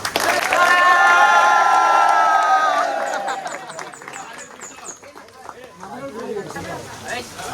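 Crowd cheering and clapping for a Dahi Handi Govinda group during the 2025 festival, loud and sustained at first, then fading into a busier mix of voices and scattered shouts.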